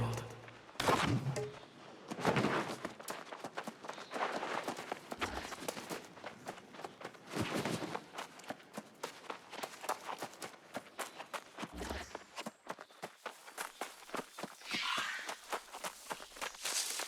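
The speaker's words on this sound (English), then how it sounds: "Oh, pretty horsey." Horse hooves clip-clop in the video game New World, a steady run of footfalls with a few louder thumps mixed in, heard without any talk.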